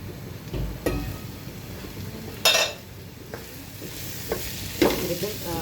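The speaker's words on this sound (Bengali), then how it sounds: "মিষ্টি কুমড়ো ভাজিটা কিন্তু খুব সুন্দরভাবে আমার ভাজা হয়ে গিয়েছে" Pumpkin pieces frying in a pan and being stirred, with a soft steady sizzle broken by a few sharp scrapes and clinks of the spatula against the pan.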